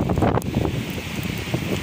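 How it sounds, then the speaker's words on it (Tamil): Strong cyclone wind roars and buffets the microphone in Chennai, a loud, continuous, rushing blast with no voices. "காற்று பயங்கரமாக அடிக்குது."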